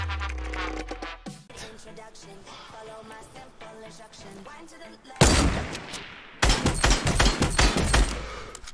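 Bursts of Fortnite gunfire, a rapid volley midway and another sustained barrage near the end, over a busy background of game sound and music.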